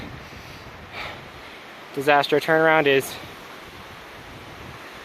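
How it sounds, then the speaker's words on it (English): Strong wind buffets the microphone with a constant roar, while a voice speaks briefly in the middle. "Really windy. Really windy."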